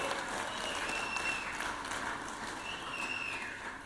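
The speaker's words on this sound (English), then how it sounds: "Give them a round of applause." Gallery applause fills the Georgia Senate chamber during a session, a steady roar of many hands clapping that holds evenly and loud for the full length, slightly easing at the end, with no talk over it.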